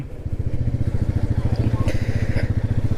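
A Royal Enfield motorcycle engine thumps in a steady, rapid rhythm while riding, close and loud throughout.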